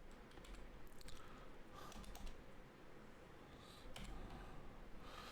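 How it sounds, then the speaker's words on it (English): Quick, faint keystrokes on a computer keyboard while flight simulator controls are being set up, scattered light clicks in short bursts over a quiet background hiss. "then we go type in flaps."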